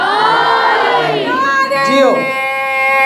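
A large crowd at a Muharram majlis gathering shouts slogans in unison, loud and sustained, with drawn-out tonal chanted syllables rising and falling across the crowd.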